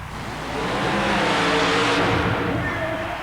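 A super modified mud racing car, the three-time World Championship winning Mud Patrol, roars and accelerates hard down a mud track at an indoor event, a loud sustained engine blare with crowd din behind it.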